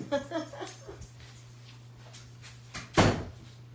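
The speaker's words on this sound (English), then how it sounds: "I got to go close the studio door because my dog decided to open it" A studio door closes with a single sharp thud near the end, after a brief stretch of talking and quiet room hum.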